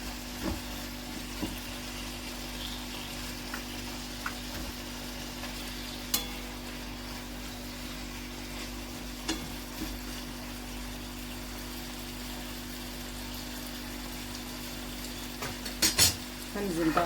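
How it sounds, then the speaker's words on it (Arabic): Sliced onions are sautéed in a meat sauce, giving a soft, continuous sizzle with occasional light clinks of a utensil against the pan over a steady background hum. "ده تشويحه في الصوص بتاع اللحمه كده"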